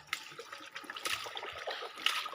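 Water from a tap runs and splashes while something such as a slipper is being washed, a faint, steady trickle and spatter with small irregular splashes throughout.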